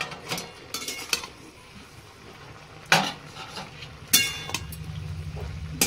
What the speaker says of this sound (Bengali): একটু নাড়িয়ে চাড়িয়ে দেবো।